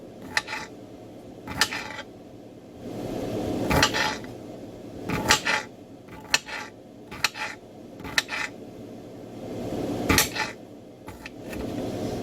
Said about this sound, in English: I'm just gonna cut slices from the jalapeno